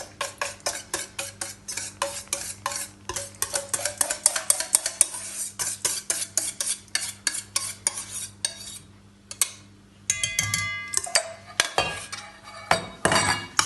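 A spoon scrapes and clinks steadily against a bowl, mixing canned tuna with egg yolks and mayonnaise for tuna deviled eggs. The rapid rhythmic taps run close and clear with no talking, pausing briefly before the stirring resumes.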